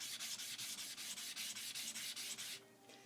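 Nagura stone rubbed against a sharpening stone to bevel its sides and ends, giving a steady run of about a dozen rhythmic gritty scraping strokes, close and alone, ending in a brief softer rub.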